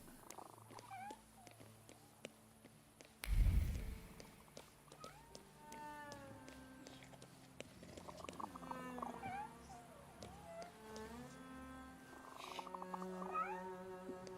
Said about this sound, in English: We all hear this cat.